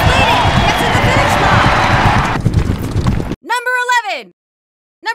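Horses gallop in a betting horse race, with dense rapid hoofbeats for about three seconds, then an announcer's voice calls the race over the fading noise.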